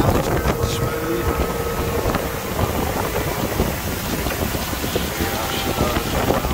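A Stingray cuddy cabin boat with a Mercruiser engine and Quadrajet carburetor runs across water in Florida, a loud, continuous motor drone buried in heavy wind buffeting, with a voice speaking over it.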